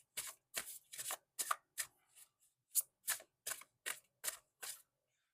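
Universal Truths oracle cards being shuffled, about a dozen crisp riffling bursts in a steady rhythm, close and clear in a quiet room with no talking.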